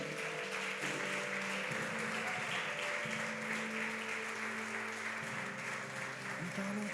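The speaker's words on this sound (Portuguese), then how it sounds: "Você pode dar uma salva de palmas para Ele nessa manhã?" A church congregation claps in praise, a faint, quiet patter of applause layered over sustained held keyboard tones that continue underneath for the whole stretch.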